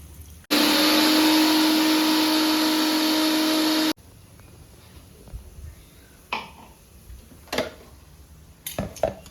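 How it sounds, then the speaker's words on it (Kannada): A mixer grinder whirs loudly for about three seconds, blending boiled bottle gourd with its cooking water, then cuts off, leaving a quiet room with a few faint clinks and knocks. "ಸೋರೆಕಾಯಿ ಬಾಯ್ಲ್ ಮಾಡಿರೋ ನೀರಿದೆ ಅಲ್ಲ ಇದನ್ನೇ ಮತ್ತೆ ಇದಕ್ಕೆ ಹಾಕ್ಕೊಂಡು ಗ್ರೈಂಡ್ ಮಾಡ್ಕೊಳ್ಳೋಣ"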